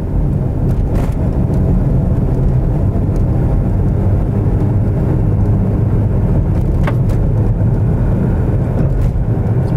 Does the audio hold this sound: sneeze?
no